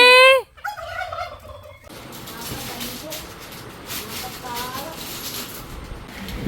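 A bird lets out a brief, loud harmonic call at the very start, close by, before people begin talking over a hissy outdoor background for the rest.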